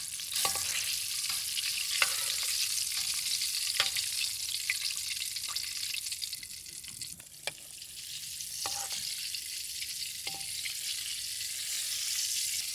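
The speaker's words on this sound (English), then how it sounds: "I'm gonna deep fry it until they turn a golden brown." Chinese sausage shrimp rolls deep frying in 350-degree oil, a steady bright sizzle with crackling bubbling throughout and sharp little pops scattered across it, close up and alone with no talking.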